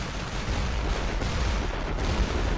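Sustained gunfire and mortar fire roll across a World War I battlefield in Elite Great War Western Front, a dense, continuous rumble of distant shots and blasts.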